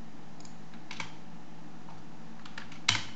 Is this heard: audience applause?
no